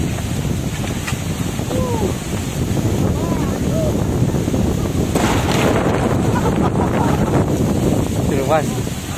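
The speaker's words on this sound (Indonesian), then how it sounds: "Anginnya kenceng banget nih." Strong stormy wind buffeting the microphone outdoors by the water where people are fishing, a continuous loud roar and flutter with gusts, and voices talking now and then over it.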